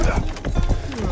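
Horse hooves clip-clopping in the medieval video game Rustler, a quick loud run of thudding hoofbeats up close, with a short whinny-like tone near the end.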